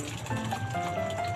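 Water poured into a cooking pot of shrimp while making binayabasan, a steady liquid gush and fill running throughout the short stretch at moderate, close volume.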